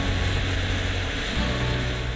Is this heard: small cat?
no